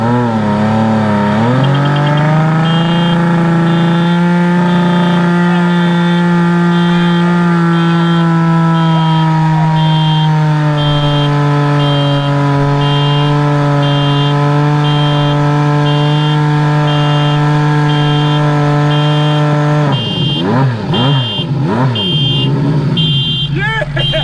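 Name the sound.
Honda CBX1100 turbo motorcycle doing a burnout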